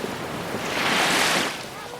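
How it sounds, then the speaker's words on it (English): Ocean waves at a beach: a broad, steady wash of surf swelling and easing over two seconds, fairly near, with wind noise on the microphone and no one talking. "You can hear the ocean in the background, waves rolling in and out, that steady rhythm of the water."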